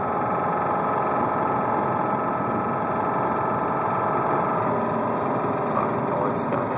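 A 2007 Subaru Outback engine with rod knock runs steadily, a constant droning hum with fine rapid ticking beneath, moderately loud and close, without talk.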